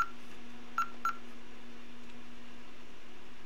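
Honeywell/Ademco alarm keypad giving short electronic key beeps while a 5808 smoke detector is programmed: one beep at the start, then two more close together, each brief and fairly faint over a steady low hum.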